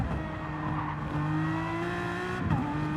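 A GT3 race car in a racing video game at Mount Panorama, Bathurst, braking hard into a corner: steady engine drone with falling pitch as it slows, a tyre-squeal edge, and engine tones shifting through downshifts, close and continuous.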